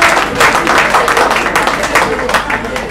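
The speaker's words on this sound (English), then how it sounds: "A round of applause for that." An audience breaks into sustained applause at a memorial remembrance event, dense rapid clapping filling the whole short stretch at a loud, even level.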